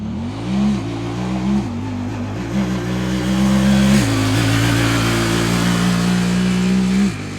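A Honda Talon UTV on 32-inch tires accelerates in two-wheel drive. The engine note is loud and close, climbing through gears with shifts, holds a high, sustained drone, then drops off near the end.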